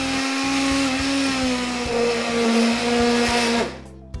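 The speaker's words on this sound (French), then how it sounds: "je vais mixer la soupe" A blender mixes cabbage soup with a loud, steady, close whirring drone that shifts slightly in pitch as the contents churn, then winds down abruptly near the end.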